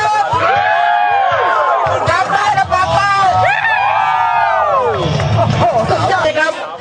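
Crowd at a Thai regional inter-office sports day cheering loudly, with sustained whoops, yells and chanting voices rising and falling throughout.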